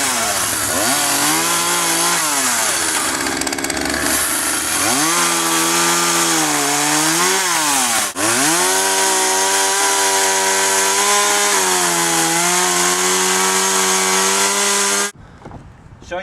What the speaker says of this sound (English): So I'm going to start the chainsaw now.